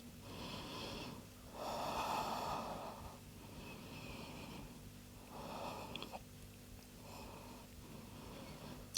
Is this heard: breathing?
yes